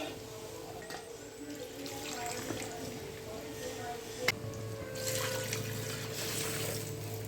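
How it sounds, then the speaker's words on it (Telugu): Water pours faintly into a pot of partly cooked chicken dum biryani with a soft, continuous splashing trickle that sits under a steady background hum and occasional talk. "ఇప్పుడు మనం వాటర్ వేసేసుకుందామండి ఉడికించుకోవడం కోసం"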